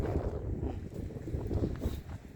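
Cold wind blows outdoors after a snowfall on a sunny day, a soft continuous rumble and gusting against the microphone, moderately quiet and steady with no talking.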